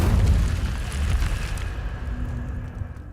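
Incendio fire spell cast in Hogwarts Legacy: a loud burst of flame whooshes out at once with a deep booming roar, then fades into a softer crackling rumble over about three seconds, with no voices.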